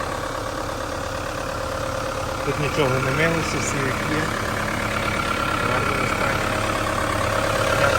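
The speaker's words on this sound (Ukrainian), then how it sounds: "так гарно працює мотор." The 2.2 diesel in a Chevrolet Captiva idles with the hood open, giving a steady, even engine hum. Someone talks over it partway through.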